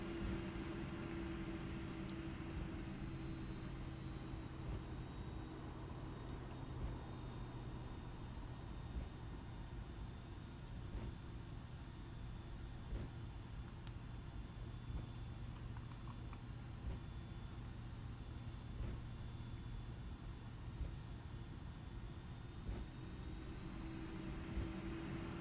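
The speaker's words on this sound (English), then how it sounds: "This plane is pretty powerful with these Pratt & Whitneys on it." Pratt & Whitney engines on a Boeing 757-300 hum steadily as the airliner taxis at Los Angeles in the X-Plane 12 flight simulator, a faint, continuous low roar with a high whine and no talking.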